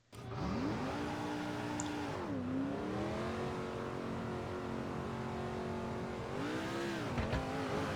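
A pickup race truck in the NASCAR 2005 video game revs loudly and continuously, its engine pitch climbing and holding high, dipping briefly around the midpoint and again near the end as it heads onto the Levi Strauss Signature Speedway track.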